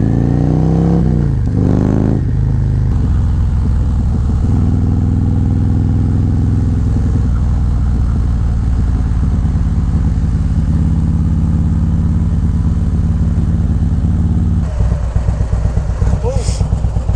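A Harley CVO motorcycle fitted with an S&S 128 engine kit rumbles loudly and close, with a quick rev near the start that settles into a steady, heavy idle. Voices are faintly mixed in.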